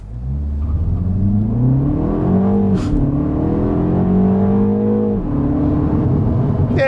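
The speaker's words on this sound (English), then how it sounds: "I'm going to bring the car to a stop, hit the boost pedal" 2025 Mini Cooper S JCW accelerating hard from a stop, loud close engine rising in pitch through a gear, then a brief dip and a second climbing pull, with no talk.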